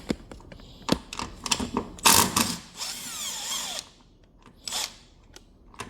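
Bursts of an impact wrench whirring and rattling in short runs as it loosens the top strut bolts on a Jaguar F-Type R, with a longer sustained buzz in the middle, close by and fairly loud.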